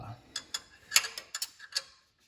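A small wrench ratchets in quick clicking bursts while tightening the fasteners on a power steering pump of a 1968 Ford Thunderbird, close and crisp, then falls silent, with no talking.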